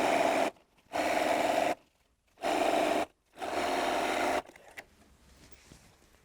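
A sewing machine runs in several short bursts while joining colourful quilt fabric strips, each burst a close, even mechanical whir separated by brief pauses, then it stops and only faint handling noise remains.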